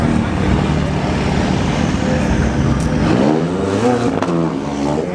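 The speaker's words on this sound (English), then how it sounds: "They're doing a big burnout" A drag racing car does a big burnout at a drag strip, a loud, continuous engine roar with tire noise holding steady throughout, close and dominant with no pauses.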